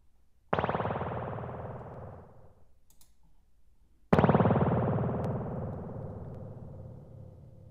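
A spring reverb tank is struck by two sharp impulses. Each sets off a bright, metallic, springy wash that decays slowly over a few seconds, the second burst louder and longer, with no voices.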